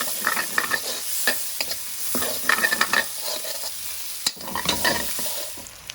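Green chilies stir-fried in a pan with garlic for a hot chicken chilli fry, giving a steady close sizzle broken by repeated scraping and clattering stirs, with no voices.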